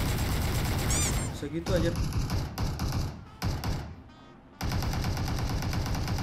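Bursts of rapid DP-28 machine gun fire in the PUBG Mobile battle royale game, loud, close volleys broken by short pauses and a lull, with a player speaking briefly over the shooting.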